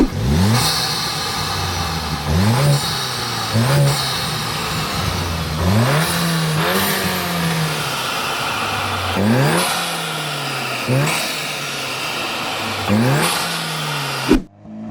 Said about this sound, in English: Listen to this intake, listen.